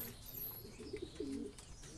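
Racing pigeons cooing in a loft after a 184-mile race from Red Bluff, California, a few soft, close coos rising over a quiet background with no talk.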